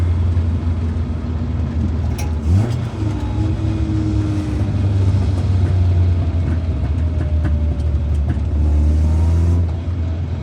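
A Toyota Corolla KE35 engine hums steadily up close, rising and settling as the car drives along, with no talking.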